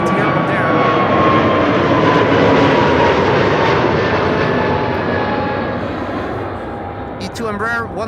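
An Airbus A321neo airliner arriving at Amsterdam Schiphol Airport roars past loud and close, a broad engine rumble and whine that slowly fades as it moves away, with a voice briefly heard at the end.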